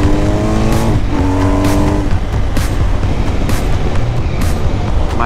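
A 2021 BMW R1250 GS adventure motorcycle accelerating hard with its quick shifter, the loud engine note climbing and stepping cleanly through gears in quick succession, then droning on with wind rush and no talk.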